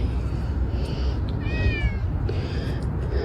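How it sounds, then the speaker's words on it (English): A thin, stray-seeming cat gives a single short meow, faint over steady low outdoor rumble and background noise. "There's the kitty"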